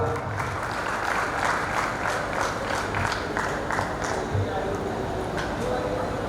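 Audience applause at a literary conference, with a crowd clapping steadily in a rapid patter while a voice speaks over it, moderately loud throughout.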